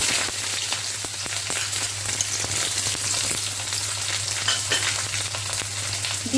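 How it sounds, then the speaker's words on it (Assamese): Chopped onions and a bay leaf frying in oil for an Assamese-style chicken curry, a constant close sizzle with fine crackles and a low steady hum underneath, no voices. "এতিয়া মই তেজপাত এখিলা দি দিছো আৰু কাটি থৈ দিয়া পিয়াজখিনি দি দিছো"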